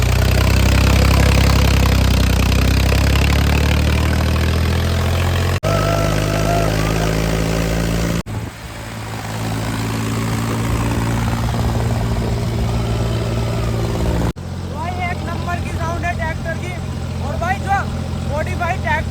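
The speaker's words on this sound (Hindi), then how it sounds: "अब देखते हैं ट्रैक्टर की साउंड।" A modified old Ford tractor engine idles and revs with a throaty, steady drone, shifting in pitch across several sections, with faint voices at the end.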